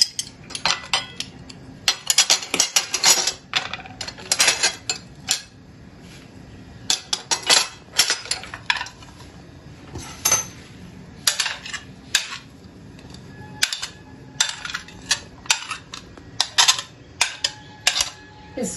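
A spoon mixing papad roll filling in a bowl, with repeated clinks and scrapes of metal on the bowl in uneven bursts, close and fairly loud.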